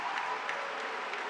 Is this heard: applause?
yes